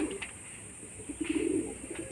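Madras pigeons of an old breeding line, restless and fidgeting in hand at home, give soft low coos in short repeated bursts, clearest in a fuller run near the middle, close by with no talk.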